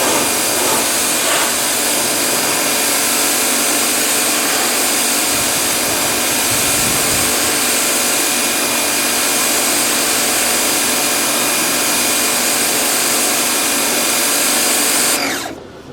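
An electric pressure washer blasting water through a high-pressure nozzle in a loud, continuous rushing roar with a motor hum underneath, steady throughout and cutting off abruptly at the end.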